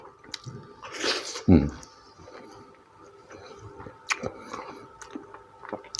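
Someone chewing while eating rice with som tam and fried chicken, with close, moist squishy bites and crunches at irregular intervals, plus a loud rustle and faint background murmurs.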